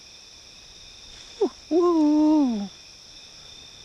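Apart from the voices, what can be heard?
owl hooting at night in the forest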